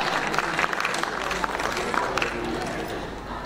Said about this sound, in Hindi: एक बार तालियों के साथ अभिवादन अभिनंदन इस मंच का।